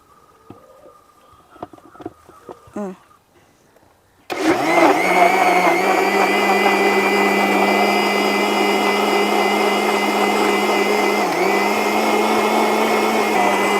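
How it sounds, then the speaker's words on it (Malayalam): A mixer grinder blends a dragon fruit milkshake, starting abruptly after a few soft handling clicks and then running as a loud, steady motor whir with the churning of liquid for around nine seconds. "നമുക്കിനി ഇത് മിക്സിയിൽ വെച്ച് അടിക്കാം."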